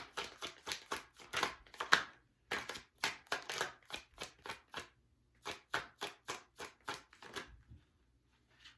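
Tarot cards shuffled by hand in rapid bursts of riffling and slapping, about a dozen crisp strikes with short pauses between, close and fairly quiet with no talking.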